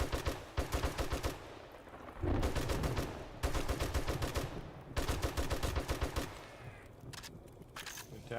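Gunfire rings out as zombies are shot in the video game 7 Days to Die, firing in rapid bursts of repeated shots separated by short pauses, loud and close, with no talking.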